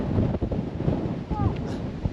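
Strong wind gusting to about 35 in Scotland buffets the microphone in a steady low roar with gusty surges, close and fairly loud, with faint voices underneath.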